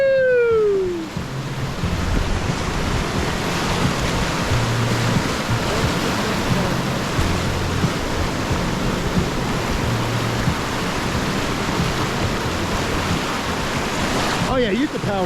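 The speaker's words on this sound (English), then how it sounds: "That looks like a surf wave to me, sir." Rapids on the Stillwater River rush in a constant loud roar of churning whitewater, heard up close from a raft, with a shout breaking in near the start and again at the end.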